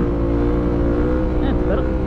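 A Yamaha WR450F dirt bike engine drones loud and close while accelerating in third gear on a bush track, a steady harmonic roar with slight rising pitch shifts; no talk.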